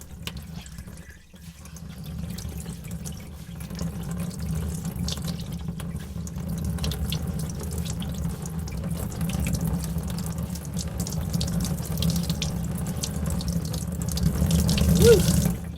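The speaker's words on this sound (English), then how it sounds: "I just want to squeeze all the water right out" Water drips and trickles steadily into a sink as a soaked knitted cardigan is wrung and squeezed out by hand, a close, continuous wet splashing that swells toward the end.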